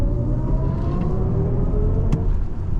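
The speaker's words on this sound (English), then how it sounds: "The acceleration that this car can give you, incredible" A 2024 BMW iX xDrive50 electric car accelerating hard up an on-ramp, heard from inside the cabin as a steady, loud low rumble of road and tire noise with a faint rising whir.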